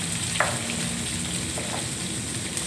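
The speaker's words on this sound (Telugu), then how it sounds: "పచ్చిమిరపకాయలు, కరివేపాకు, కొంచెం బాగా వేయించుకోవాలి" Green chillies and curry leaves frying in a pan for a cabbage fry, giving a steady close sizzle with a few faint stirring clicks and no talk.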